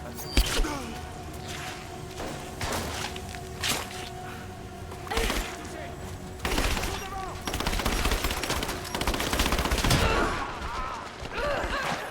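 Gunfire in the video game Rise of the Tomb Raider cracks out in scattered bursts of sharp shots and rapid volleys, mixed with game effects and in-game character speech.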